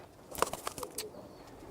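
A hen pigeon gives a few soft, short coos up close, with faint background noise and no voices.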